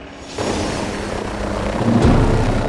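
A Northrop Grumman and Bell Fire Scout unmanned military helicopter produces a loud, steady rotor and engine roar that kicks in abruptly and swells slightly near the end, with no voices.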